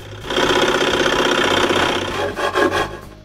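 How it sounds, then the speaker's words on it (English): A scroll saw cutting wood, a steady mechanical buzzing with a rasping edge, running continuously before faltering briefly near the end. "I remove the waste with the scroll saw."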